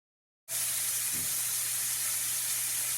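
A steak sears in a hot pan with garlic added, a loud hiss and sizzle bursting in after half a second of silence and holding steady, close to the pan.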